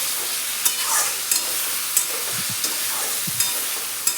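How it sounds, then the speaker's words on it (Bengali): Tomatoes sizzle as they fry in a hot pan, with steady crackling and a few sharp scrapes and clicks of stirring, close and alone with no voices. "টমেটোগুলো দিয়ে দিছি"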